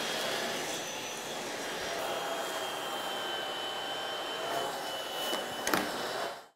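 A Tineco Pure ONE S11 cordless vacuum cleaner runs steadily while picking up dirt from the floor, giving a continuous airy whine with brief crackles of debris near the end, then cutting off abruptly.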